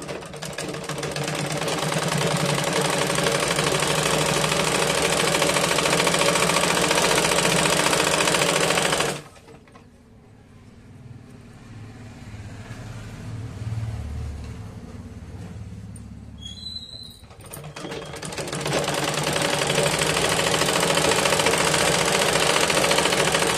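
A sewing machine stitching a folded bra belt, a loud steady close mechanical whir in two long runs separated by a quieter pause with faint handling noises.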